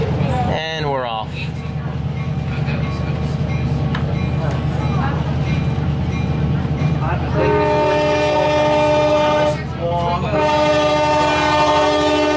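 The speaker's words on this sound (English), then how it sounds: "Anytime a locomotive is going through a crossing" A locomotive passing through a road crossing, its loud, close rumble running throughout while the horn sounds in long sustained blasts, with people talking over it.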